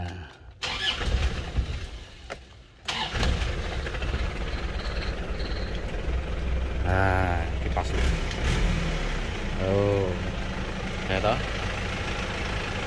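A Honda Civic Genio car engine idles below 1000 RPM, a low steady rumble running throughout with a brief gap early on, while people talk over it.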